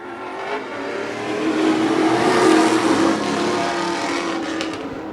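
Prostock race cars in a 10-lap heat roar past, their engines swelling to a loud peak in the middle and then easing into a steady drone as the pack moves on.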